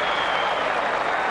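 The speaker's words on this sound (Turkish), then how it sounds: "oyuncuları ayakta alkışlıyor." Malatyaspor supporters in a stadium at a UEFA Cup match against Basel give the players a standing ovation, a dense and continuous roar of applause from a large crowd.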